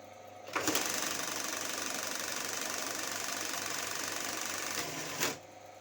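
A class 25 industrial buttonhole sewing machine stitching a buttonhole, starting with a clack, then a steady, fast mechanical whir and vibration for several seconds, ending with another clack as it stops.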